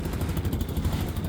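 A trawler boat's engine on the Padma river chugs close and steady, a low throbbing motor rumble that runs without pause.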